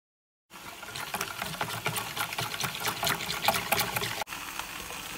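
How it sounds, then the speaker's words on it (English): Tomato paste dissolved in water being poured into a pot of spinach and rice, a continuous, fairly loud gushing pour that starts abruptly after a short silence and runs steadily with one brief break. "I'm gonna dissolve this 1 can of tomato paste in 6 cups of water and add that to the spinach and rice mixture."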